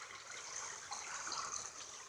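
Deep creek water flowing steadily at a trapping spot, a soft continuous hiss and gurgle with no voices.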